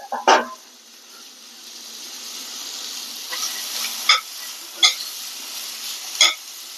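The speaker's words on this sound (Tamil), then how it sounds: "எண்ணெய் காஞ்சோடனே இந்த பெருசா கழட்டி வச்சோம் இல்லையா, இந்த வெங்காயத்தை இப்ப போடுவோம் இதுல" Sliced onion and a handful of coriander hit hot oil in a pan, starting with a sharp splash and then settling into a soft, steady sizzle broken by a few light utensil clinks, close by with no talking.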